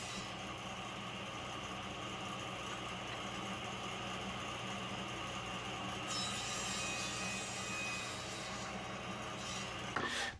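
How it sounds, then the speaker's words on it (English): A table saw on a crosscut sled cutting wood segments for segmented woodturning, a steady whirring saw drone with a brighter cutting tone partway through and a short louder burst at the end, close, with no talk. "this specialty crosscut sled makes pretty quick, accurate work of cutting all these segments"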